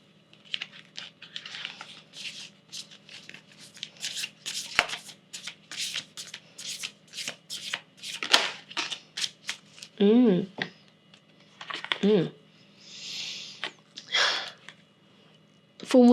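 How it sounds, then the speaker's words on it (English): Moonology Oracle cards shuffled by hand in bursts of soft riffling and slapping, close by, with a voice speaking between the shuffles. "Now I'm going to pick a card from the Moonology Oracle cards deck to see what else Spirit has for you."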